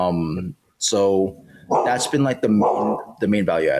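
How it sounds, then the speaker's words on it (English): A pet dog barks a few times close by in a home, the yaps sitting under and between a man's steady conversational speech. "Apologies for my dog barking"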